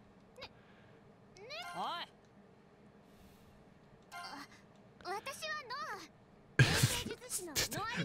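A talking cat in the video game Little Noah: Scion of Paradise meows several times in short rising calls, then lets out a loud burst of noisy cries near the end, with quiet game sounds between.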